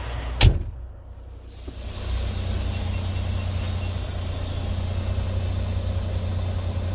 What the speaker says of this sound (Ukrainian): Двигун чути